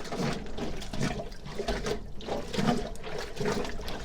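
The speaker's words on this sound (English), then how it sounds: "we're gonna take these whites and we're just gonna go back and forth with the agitator" Whites being sloshed back and forth with a hand agitator in a tub of hot borax water, giving a steady run of splashing, churning water surges at close range with no talk over it.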